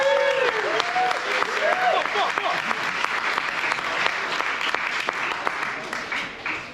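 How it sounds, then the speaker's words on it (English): An audience at a mountaineering shop presentation breaks into dense, sustained applause with a few whoops and cheers, while a voice calls out briefly over the clapping near the start. "Big round of applause for Davenport."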